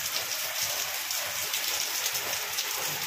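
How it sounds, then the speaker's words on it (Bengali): Heavy rain falls steadily on surfaces outdoors as a dense, continuous hiss, fairly loud and unbroken, with no voices. "দেখো অলরেডি জোরে জোরে বৃষ্টি পড়া শুরু হয়ে গেছে"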